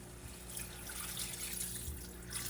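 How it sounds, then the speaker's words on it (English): Water pouring steadily into a pot of dried peas and a ham bone for French Canadian pea soup, a continuous splashing trickle for about two and a half seconds with a faint background hum. "And now we're going to add the water."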